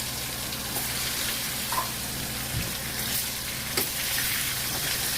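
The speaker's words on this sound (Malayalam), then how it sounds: "ഞാൻ എല്ലാ മീൻ കഷ്ണവും ഒന്നിച്ച് ഈ വെളിച്ചെണ്ണയിൽ തന്നെ ഇട്ട് പൊരിച്ചെടുക്കുക ചെയ്തത്" Fish pieces frying together in coconut oil, a steady close hiss and sizzle like light rain, with a few soft pops and clinks breaking through the constant crackle.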